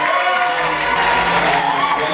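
Wedding guests in Goma cheering and applauding together, a continuous wash of crowd clapping and raised voices, loud and sustained, with some talk mixed in.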